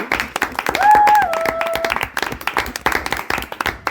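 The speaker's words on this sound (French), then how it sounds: "Applaudissons-les, bien sûr." Dense applause from a television studio audience on a game show, steady and close throughout, with a voice briefly heard over the clapping.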